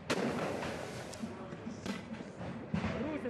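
Several sharp blasts from a pump shotgun crack out at irregular intervals over a noisy, chaotic street protest on Hrushevskoho Street, with loud rumbling and crowd commotion throughout.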